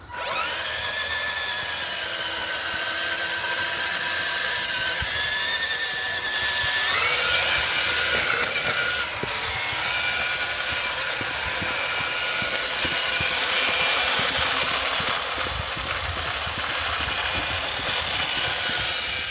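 A big 1/6 scale FMS Suzuki Jimny radio control car drives a lap, its electric motor giving a steady loud whine that rises and shifts in pitch, with no talking.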